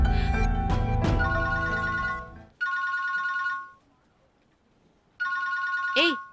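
A phone rings in bursts of a bright electronic ringtone, two clear pulses separated by a pause, over a noisy indoor scene with voices heard at the start and a short vocal sound at the end.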